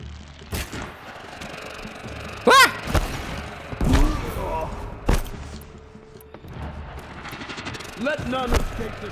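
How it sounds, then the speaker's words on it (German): Gunfire and thuds in the video game Horizon Zero Dawn, with scattered shots and impacts mixed with game sounds and a voice talking over them. "Hauptsache der eine hat ein Maschinengewehr."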